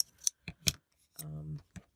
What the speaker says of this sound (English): These scissors are by Fun Stamper's Journey, and they have such an end on them.